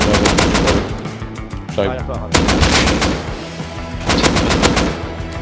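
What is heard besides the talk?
AK rifle gunfire in the video game Rust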